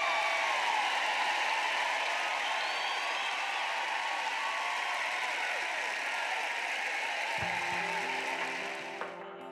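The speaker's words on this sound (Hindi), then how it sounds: "डेव के लिए तालियां।" Sustained applause from an audience after a woman's speech, a steady broad wash of clapping that continues loudly for several seconds before fading near the end.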